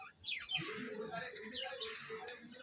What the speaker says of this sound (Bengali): আমার পাখিগুলো কিচিরমিচির করছে।